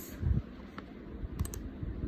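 Typing on a computer keyboard: a few scattered key clicks followed by a quick cluster of taps as enter is pressed, close and fairly quiet.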